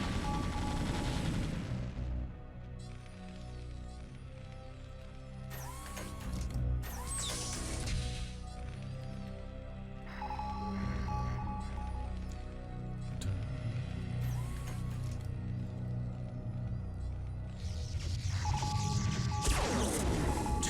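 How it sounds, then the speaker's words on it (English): Terran Wraiths and Goliaths open fire in a StarCraft: Brood War Remastered match on Fighting Spirit, a dense run of game weapon shots and impacts layered with effects and sharp bursts, steady and moderately loud throughout with no one talking. "The Wraiths are firing. The Goliaths are firing."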